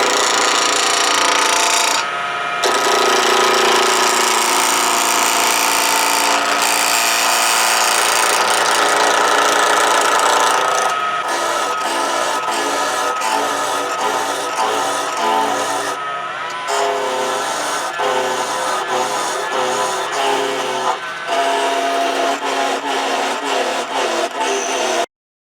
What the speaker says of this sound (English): fond of skews, so I will turn it with a skew. Start out, I'm not going to go full speed,